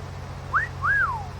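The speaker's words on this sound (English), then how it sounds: "I know that it's not doing a wolf call whistle, but it's still a whistle" Two-note whistle in Farming Simulator 19, a short rising chirp followed by a longer swooping note that falls away, clear over a low steady engine hum.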